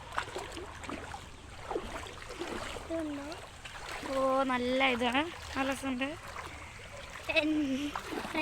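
Feet wade and splash through a shallow rain-fed stream after rainfall, with soft sloshes and trickles running under lively close-up conversation.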